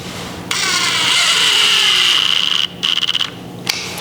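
A power drill on a low setting whirs for a couple of seconds, then stutters in short bursts as it drives a screw in, close up with no voices.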